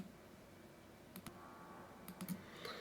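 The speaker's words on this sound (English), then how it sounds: "I was typing in app image." Computer keyboard typing, a few faint scattered key clicks in two small clusters against quiet room hiss, sparse rather than a steady run.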